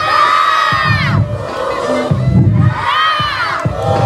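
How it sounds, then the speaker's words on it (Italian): Crowd of young fans at an arena show shouting their team's name in unison, two loud chanted bursts separated by lower crowd noise, close and energetic. "io quando vi indico voi urlate il nome della vostra tifoseria"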